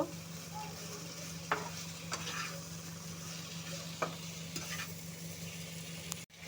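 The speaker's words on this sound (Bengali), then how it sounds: "ঝিঙ্গাটা একটু ভাজা ভাজা করে নেব" Ridge gourd pieces frying in a pan for a thin fish curry, with a steady crackling sizzle and a few distinct spatula scrapes and knocks, close up with no voices.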